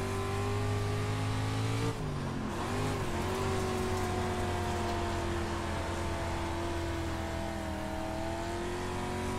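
Dirt race car engine driving laps at Lincoln in the video game iRacing, a loud steady drone that dips briefly as the car lifts off, then climbs back and holds high revs, with tire noise beneath.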